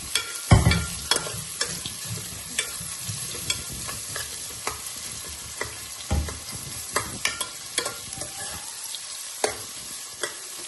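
Onions frying in a pan for tomato bath sizzle softly and steadily, while a spatula scrapes and taps at irregular intervals, one heavy thud near the start and another around the middle, close up with no one talking.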